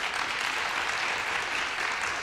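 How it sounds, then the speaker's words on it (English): An audience claps for an honoree at a Richmond school speaking event, producing steady, even applause from a crowd, a dense hand-clapping wash heard alone at moderate level. "I would also like to thank Dr. Julie Romain, if we can give her a nice round of applause,"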